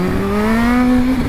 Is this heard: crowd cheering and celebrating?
no